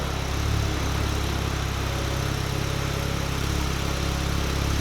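A Porsche 991 Turbo S sits at a steady, low idle with a constant deep rumble and even vibration at moderate volume, no talking.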